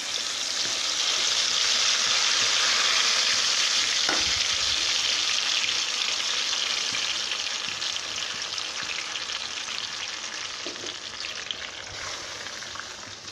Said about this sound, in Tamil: எண்ணெயில் போட்டதும் தெரிக்கும்.